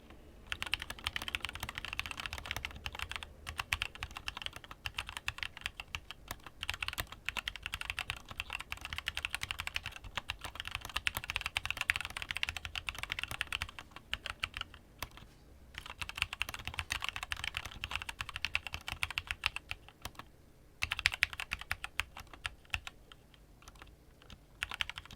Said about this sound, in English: so there's a bit of a light typing sample